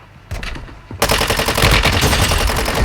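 Rapid gunfire in Warzone Mobile, a brief burst followed by a loud, sustained stream of automatic shots in quick rhythm.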